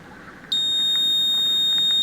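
Arduino buzzer on an eye-monitoring circuit for halting AC motors, switching on abruptly and holding a loud, steady, piercing electronic tone, following a quiet stretch.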